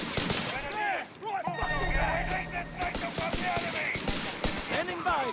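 MG-42 machine gun fire in Company of Heroes 3 rattles in rapid bursts amid scattered gunshots and battlefield noise, with soldier voice lines heard over the combat.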